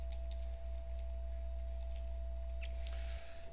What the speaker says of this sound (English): let's type in an email address.